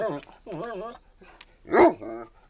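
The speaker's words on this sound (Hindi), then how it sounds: "मैंने कहा था ना ये कमाल का कुत्ता है" A cartoon dog gives a couple of short, loud barks amid lively animated voices. The yips and voices trade back and forth over the whole stretch, and the sharpest bark comes near the end.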